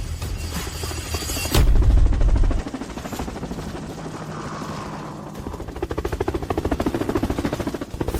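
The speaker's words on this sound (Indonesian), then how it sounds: "Apa itu? Helikopter?" Helicopter rotor beating overhead, a rapid steady chop that grows louder and heavier toward the end, mixed with a low roar and a brief rumble.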